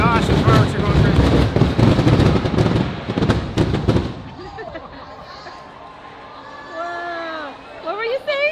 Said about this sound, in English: the fireworks are going crazy